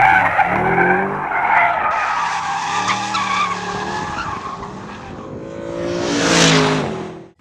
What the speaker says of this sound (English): we're going to drive a new car that AMG just came out with